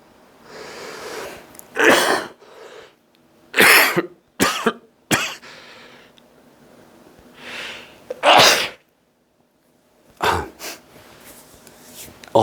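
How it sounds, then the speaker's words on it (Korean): Several loud, sharp coughs and sneezes burst out close by, separated by short quiet gaps, with a couple more near the end. "기침했습니다. 양해를 바랍니다."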